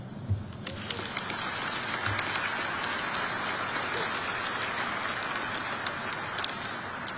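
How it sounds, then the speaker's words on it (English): Steady, dense applause from an audience at a military test wing annual awards ceremony, sustained for several seconds with a few brief voices mixed in. "Please clap for them."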